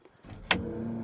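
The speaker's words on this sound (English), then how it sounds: "Fuel pump on." A brief quiet rise of motor noise from a car's electric fuel pump priming after the key is turned, a short whirring buzz that starts with a click and then holds steady, faint and close.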